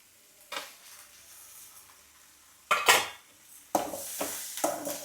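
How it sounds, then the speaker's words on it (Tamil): Tomatoes tipped into a frying pan and stirred, with loud metallic clatters and scrapes of a utensil in three bursts over a light sizzle, close by and without talk. "தக்காளியை போட்டு கொஞ்சம் நேரம் கிண்டுங்க."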